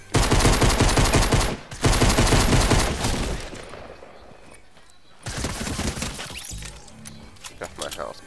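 Heavy bursts of rapid automatic fire in a multiplayer shooter, two loud sustained volleys followed by a quieter lull and another round of shots, with players talking over the action.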